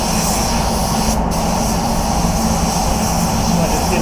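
Continuous hiss of a spray gun laying a half coat of paint over a car panel, a steady loud wash of air and atomised paint running unbroken from start to end.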